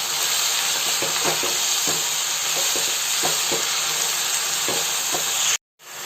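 Spinach added to fried onions sizzles loudly in a frying pan and is stirred with a utensil. The frying hiss is constant and close, with soft scraping stirs, then it cuts off abruptly near the end.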